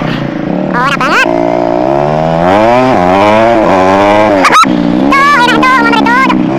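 A Honda GL Max semi-touring motorcycle engine revs loudly up close, its throttle rising and falling in repeated surges with a brief sharp blip partway through.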